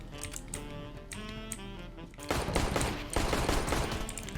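Gunfire in the video game CS:GO: rapid bursts of automatic fire crackle close and loud, with a denser, heavier stretch of shots in the second half and some voices underneath.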